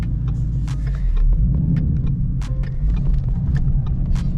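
A 2015 Ford Mustang with an MGW Race Spec low-profile shifter driving on a snowy road at 23 degrees, its engine a deep steady rumble with road noise and occasional clicks, close and loud, no talk.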